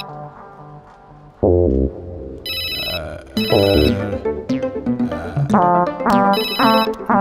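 Phone ringtone playing a repeating electronic melody loudly, in bursts that grow fuller and carry on for several seconds after a short quiet start.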